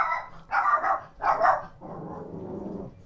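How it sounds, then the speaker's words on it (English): A dog barks three times in a row, fairly close, then gives a lower, drawn-out growl or groan, with no other sound around it. "I think I hear a companion in the barking of a dog."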